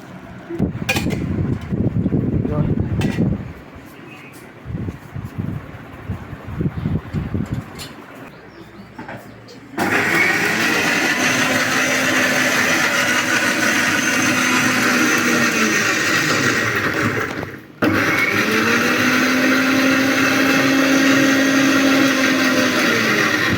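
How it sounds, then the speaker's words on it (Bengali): An electric blender grinds a piece of ginger with a spoonful of sour curd, a loud steady whirring drone in two long runs split by a brief stop, preceded by softer kitchen clatter. "এক টুকরো আদা টক দই এক চামচ এটাকে বেটে নেবো"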